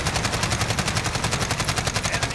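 An enemy sentry gun in Call of Duty Modern Warfare fires a loud, steady burst of rapid automatic shots, evenly spaced and continuous throughout, heard up close with nothing else over it.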